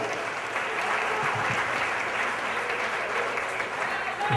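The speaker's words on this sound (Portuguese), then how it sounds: "dê uma salva de palmas para Jesus" A church congregation claps steadily and loudly for the whole stretch, a dense, even wash of applause with faint voices mixed in.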